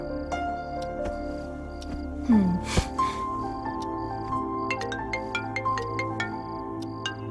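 Phone ringback heard while a call is placed, with repeated short high electronic tones over a steady sustained hum, and a brief scrape and knock partway through.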